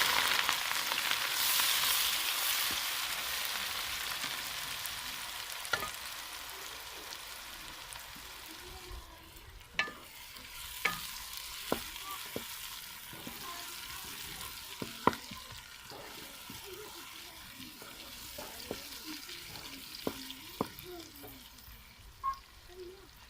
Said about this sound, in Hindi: ये दे सकते हैं घी हमारा अच्छी तरह गर्म हो गया, और प्याज डालेंगे